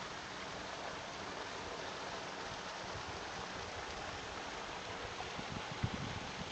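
Gordon Falls waterfall and its creek give off a steady, even rush of falling and flowing water, constant and moderately loud with no voices.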